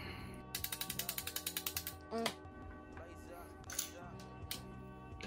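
CZ P-01 pistol being field stripped, with a quick run of about a dozen sharp ratcheting mechanism clicks followed by a few scattered metallic clacks and handling noises, close and fairly quiet.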